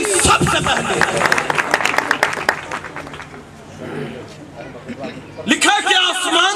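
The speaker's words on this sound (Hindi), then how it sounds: "हालेलुया, तालियां।" Audience clapping and cheering break out at a Christmas church convention in a loud, dense burst, with crowd babble and a preacher's voice over it before it fades and speech resumes.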